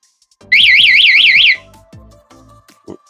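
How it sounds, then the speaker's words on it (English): A motorbike alarm, set off by its shock sensor, sounds a loud one-second warble of rising and falling electronic siren tones, then falls silent with faint clicks. "first time I'm gonna give you a warning through the shock sensor."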